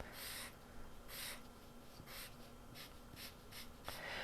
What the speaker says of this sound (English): I'm just going to color the book page.